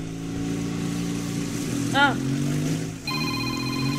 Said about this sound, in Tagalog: bagting cellphone Imo da